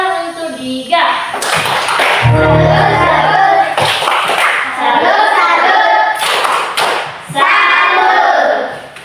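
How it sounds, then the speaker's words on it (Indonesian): In a classroom-style religious lesson quiz, a group claps in uneven bursts, mixed with children's voices, thumps and other room noise, loud and close. "Tepuk tangan untuk Diga."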